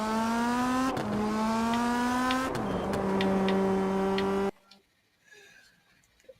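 Race car engines in the video game Rennsport scream loudly at high revs, rising in pitch through each gear with sharp shift breaks, until the noise cuts abruptly to near silence near the end.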